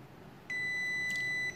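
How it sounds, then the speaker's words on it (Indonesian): A Brother ADS-1100W scanner gives one steady electronic beep lasting about a second after WPS Wi-Fi pairing, clear against a quiet room. "seperti itulah teman-teman ada bunyi tit"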